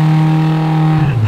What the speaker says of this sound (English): That's full throttle. That's to the floor.